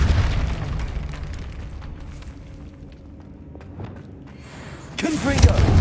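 Repulso spell blast in the Hogwarts Legacy video game, with a sudden loud boom and burst near the end following a low rumbling stretch, with speech present.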